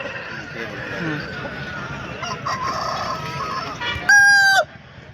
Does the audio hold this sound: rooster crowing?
yes